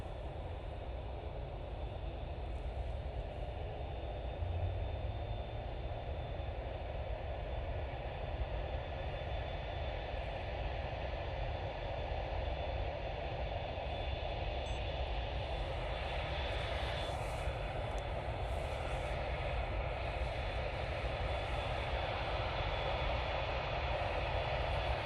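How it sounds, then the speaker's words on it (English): An Emirates airliner making a full-length takeoff at Manchester Airport produces a sustained, broad engine roar heard from a distance, steady for the whole stretch. "we're going to get a full length takeoff from the Emirates"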